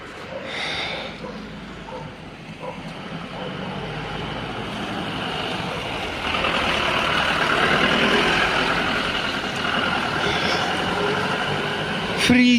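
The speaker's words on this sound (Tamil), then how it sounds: "இப்போ பார்த்தீங்களா நண்பர்களே, பின்னாடி இருந்து வண்டி வருது." A vehicle, likely a truck, approaches from behind along a cold mountain road, its broad engine rumble swelling steadily louder with a faint voice briefly audible.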